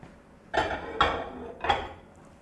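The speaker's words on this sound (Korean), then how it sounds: "만두가 담긴 그릇을 가운데 놓아줍니다." A bowl of dumplings set down inside a microwave oven, three distinct clinks and knocks of a dish against the microwave interior, close and fairly soft.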